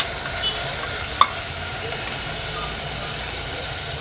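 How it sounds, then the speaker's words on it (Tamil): Ginger garlic paste frying in a pan gives a steady, even sizzle throughout, broken once by a short sharp click partway through, with no voices over it. "இஞ்சி பூண்டு பேஸ்ட் எப்பயுமே இப்படி வச்சு தான் நம்ம ஃப்ரை பண்ணணும்."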